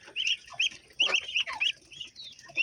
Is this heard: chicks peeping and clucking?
yes